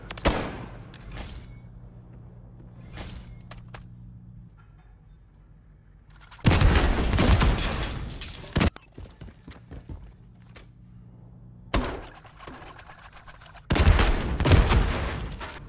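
Modern Warfare III weapon fire into a map ceiling corner comes in three loud separate bursts of rapid shots, broken by quieter stretches of low humming background.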